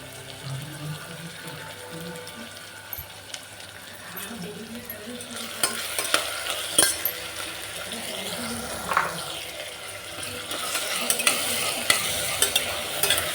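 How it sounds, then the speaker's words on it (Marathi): Salted onion frying in oil in a home kitchen, stirred with a spatula: steady close sizzle under scraping strokes that grow louder and more frequent in the second half, with brief spoken words in between. "कांदा मस्त लाल कलरचं तळून घेऊ"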